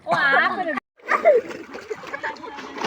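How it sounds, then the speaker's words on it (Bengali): A child learning to swim splashes in water, with short sloshing bursts heard under an adult's voice giving close instructions. "নাক ধরো ডুব দাও ডুব দাও"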